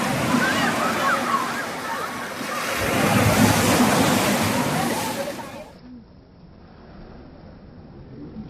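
Sea waves at Thiruchendur temple beach, a loud rolling surf wash with wind buffeting the microphone that swells and then cuts off, leaving quieter water and a voice speaking.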